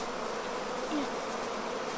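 A collected honey bee swarm buzzes as a dense, continuous drone, close and steady throughout with no voices.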